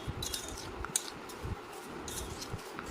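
A spoon stirs lemon juice into homemade mutton pickle, giving soft, scattered clinks and scrapes against the container, faint and close over a low background hum with no talking.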